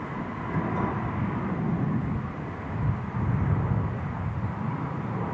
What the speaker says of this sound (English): Sun Express 737 MAX. Just rolling down 23 left.